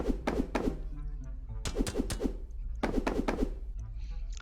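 Several quick metallic clanks from hits on metal in a video game, in clustered bursts of three or four hits each, with short pauses between groups, set against a steady low hum.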